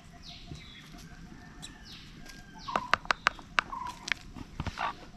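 Free-range chickens on a Tamil village farm cluck and squawk in short bursts against quiet outdoor ambience, a few sharp calls clustering toward the end.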